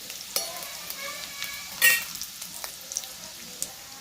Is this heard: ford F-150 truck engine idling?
no